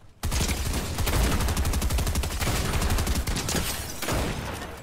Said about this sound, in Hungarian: Máté, lövöldöznek téged